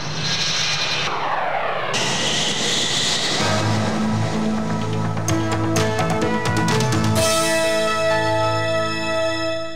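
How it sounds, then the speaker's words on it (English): Space Shuttle main engines igniting and the vehicle lifting off, a loud continuous roar that swells and broadens, building into a dense rumbling thunder. "Ignition and liftoff."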